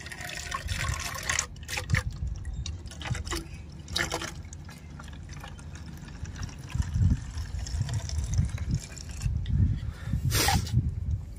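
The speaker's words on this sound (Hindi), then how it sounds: "ये मेरा बोतल है जिसमें मैं इसको डाल रहा हूँ।" Homemade insecticide liquid made from garden supplies is poured into a spray bottle, a close, uneven trickle and splash with short bursts of gurgling and fill sounds, unaccompanied by speech.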